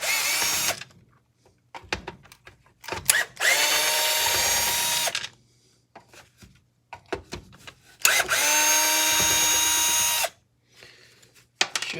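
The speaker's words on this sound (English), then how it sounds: "pulling all these little screws out." A power drill unscrews small screws from an old miter saw being scrapped for metal, in two long whirring bursts separated by short clicks and handling noises, close and loud.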